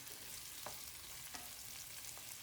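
Garlic cloves fry for pickle in a pan with a soft, continuous sizzle and crackle, with a few light stirring scrapes, close and alone without any voices.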